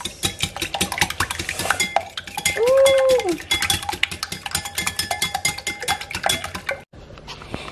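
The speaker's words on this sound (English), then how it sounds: "So first you beat 3 eggs" Three eggs being beaten for Yorkshire pudding batter, with rapid continuous clinking of a fork or whisk against a bowl, loud and close, and a brief squeak partway through.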